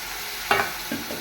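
Curry leaves dropped into a hot frying pan for an onion chammanthi give a sharp burst of sizzling, followed by a couple of smaller crackling bursts and spoon stirring, close and fairly quiet.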